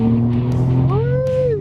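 A Nissan Skyline GT-R R33 with a 280-horsepower turbo engine and GT-R R34 factory turbine pulls forward, a loud close engine note that holds steady, then climbs sharply in pitch during a short burst of acceleration.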